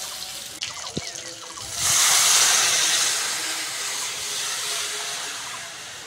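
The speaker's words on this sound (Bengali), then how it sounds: "এবার ডালটা সাঁতাল দিয়ে দেবো।" Dal poured into hot oil for tempering erupts in a sudden loud hiss and sizzle after a couple of quiet seconds with a sharp knock, then settles into a steady, slightly softer sizzle close by.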